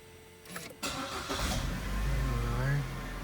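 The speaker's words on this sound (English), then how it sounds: "I want to start the engine and show you guys." A Holden Cruze engine cranks briefly and catches, then settles into a steady, close idle with a rising low rumble; a voice speaks faintly near the start.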